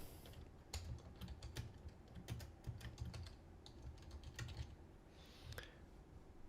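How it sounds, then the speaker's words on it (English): Keys on a computer keyboard clatter quickly and unevenly as a question is typed, close and quiet over a low background hum, with no talking. "Let me type out this question right here."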